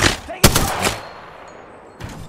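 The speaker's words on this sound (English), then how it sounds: "The enemies are shooting at me." Enemy gunfire in Apex Legends rings out as a couple of sharp, loud shots close together, then a lull, with one more crack near the end.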